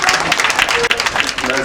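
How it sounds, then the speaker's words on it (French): A crowd applauds briefly at an agency opening ceremony, a dense burst of hand clapping with voices mixed in. "Soyez pas jaloux, applaudissez."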